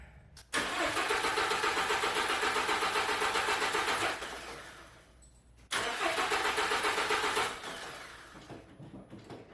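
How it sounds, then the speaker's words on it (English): A car engine cranks with a rapid rhythmic chugging, twice in a row, each attempt lasting several seconds before fading out. "let's crank the car"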